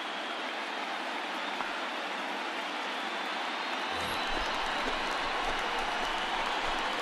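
A packed baseball stadium crowd roars and cheers at a World Series home game, a dense continuous wall of noise that swells slightly toward the end.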